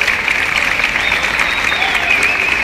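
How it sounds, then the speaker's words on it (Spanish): Crowd applause at the opening of an interuniversity sports games event honors a university director, a steady, fairly loud clapping with a faint tonal whine running over it. "Un fuerte aplauso para él, por favor."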